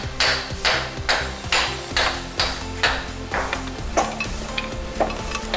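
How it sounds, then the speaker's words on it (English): Metallic hammer strikes on a rusted CV axle shaft of a Dodge Caliber, a run of about a dozen steady, ringing blows close up, fading to lighter taps toward the end, with no speech. "now just hit that CV axle a little bit"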